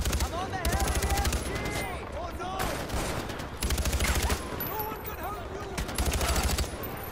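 Bursts of automatic gunfire from the Far Cry 4 video game ring out in repeated clusters of rapid shots, loud and close, over a bed of constant game action.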